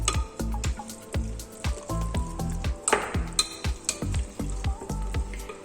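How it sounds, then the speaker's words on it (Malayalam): Lemon pickle being stirred together with masala on a plate, giving close, wet, sticky squelches and clicking scrapes in an irregular rhythm, with no talking. "ഇനി ഇതെല്ലാം കൂടി ഇട്ടിട്ട് ഒന്നും കൂടെ മിക്സ് ചെയ്യാം"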